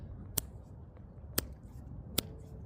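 Three faint, thin left-hand finger snaps sound about a second apart over a quiet, rumbling outdoor street background, each one a weak, slipping click.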